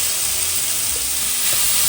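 Onion and coconut paste fries in a hot pan with a loud, steady, close sizzling hiss that runs unbroken throughout, with faint stirring underneath.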